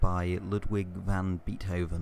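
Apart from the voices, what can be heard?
No everyday noise stands out behind the speech.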